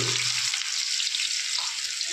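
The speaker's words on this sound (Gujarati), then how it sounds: "તેલ બેલ ગરમ થઈ ગયું છે. પેલા ડુંગળી, ટમેટું અને મરચાં નાખી દેવાના છે." Onion, tomato and green chillies sizzle in hot oil in a home kitchen, a steady loud hiss of frying that fills the whole stretch without talk.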